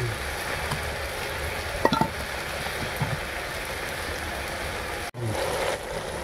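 Mixed greens with prawns fry in a pan over a village cooking fire, giving a steady, close hiss and crackle with a few sharper clicks from stirring, and no talking.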